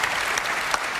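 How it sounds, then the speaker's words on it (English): A conference crowd at a Reform Party conference in Birmingham breaks into dense, continuous applause, a steady wash of many hands that lasts about a second. "Round of applause"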